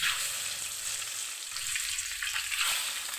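Duck eggs fry in hot oil with turmeric, giving a steady, close sizzle and crackle that runs throughout, with a few faint stirring scrapes and no talking.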